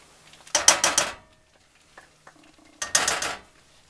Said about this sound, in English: Mix that all up nice.